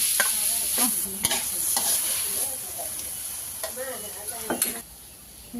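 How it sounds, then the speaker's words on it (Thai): Chillies stir-fry in pork lard in a pan with a steady close sizzle, broken up by repeated scraping strokes of a spatula. The frying fades near the end and no one speaks. "เอา พริกนะคะมาผัดกับ น้ำมันหมูก่อนนะคะ อันนี้เป็นน้ำมันหมูนะคะ เราจะผัดให้หอมนะคะ"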